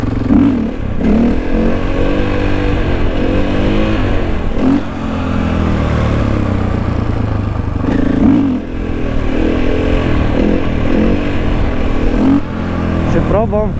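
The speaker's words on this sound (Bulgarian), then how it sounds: "Така че това е перфектният мотор." Motorcycle engine revving on a newly bought bike, a steady throaty drone that rises and falls in pitch through several rev swells, loud and close, with someone talking over it.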